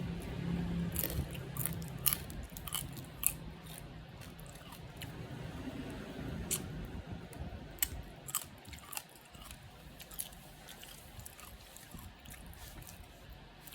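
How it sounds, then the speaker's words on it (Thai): Fried Patanga grasshoppers chewed thoroughly, with quiet crunchy, squishy bites and scattered sharp crackles close to the mic over a faint background hiss. "เคี้ยวให้ละเอียด"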